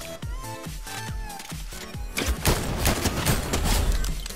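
Rapid gunfire in the video game Fortnite during a trio build-mode match, a string of loud sharp shots with clustered bursts that thicken into dense overlapping fire toward the end.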